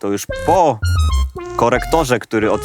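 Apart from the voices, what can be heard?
No everyday noise stands out behind the speech.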